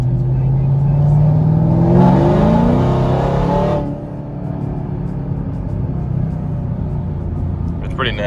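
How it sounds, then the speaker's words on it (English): A 2018 Camaro ZL1 fitted with headers revs hard in second gear, a loud rising engine roar that swells and then drops back to a steady rumbling idle. "Give it some gas."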